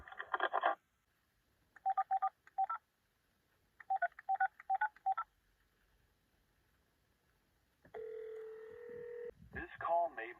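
Bursts of telephone keypad tones dial a tire shop in several quick clusters separated by silence, followed by a steady ringback tone and the start of a recorded line, faint and close.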